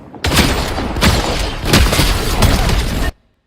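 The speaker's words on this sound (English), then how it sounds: "Really messy shotgun fight." A close-range Fortnite shotgun fight fills about three seconds with loud booming blasts, impacts and crashing debris in quick succession, ending abruptly in silence.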